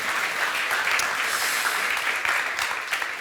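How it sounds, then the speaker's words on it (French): Audience at a French round-table sports panel applauds a speaker, a continuous wash of many hands clapping at moderate distance, steady throughout with no talking. "Vous pouvez l'applaudir."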